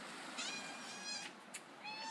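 A house cat meows several times in short, high, bright calls spread through a quiet indoor moment, fairly close and with no talking over it.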